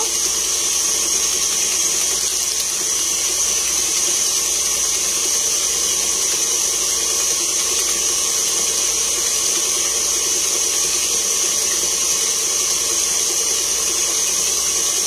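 A steady, continuous whirring drone with a high-pitched whine from an electric kitchen mixer beating eggs close by, unbroken for the whole stretch with no talking.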